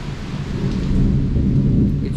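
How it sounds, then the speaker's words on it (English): Thunder rolls during a rainy storm, a deep sustained rumble swelling and fading under steady rain, loud and without voices. "There's the thunder now."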